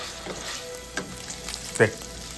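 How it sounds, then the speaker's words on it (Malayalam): Beef browning in half a cup of hot oil for Nigerian-style peppered beef, a steady close sizzle broken by a couple of short utensil scrapes and clinks, with no talking. "1/2 കപ്പ് ഓയിലാണ് ഒഴിച്ചിട്ട് ഈ സാധനം ഈ മീറ്റിനെ ബ്രൗൺ അങ്ങോട്ട് ചെയ്യണം, നല്ല കറപ്പിക്കണം."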